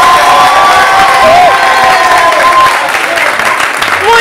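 Studio audience on a Portuguese television talk show applauding and cheering, a dense steady wash of clapping with raised voices and whoops running loud throughout.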